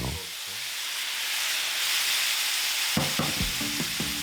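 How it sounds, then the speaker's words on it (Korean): Vegetables for gochu japchae stir-fried over high heat, a steady loud sizzle and hiss with a run of quick clanking spatula strokes against the pan near the end. "다시 볶아주세요"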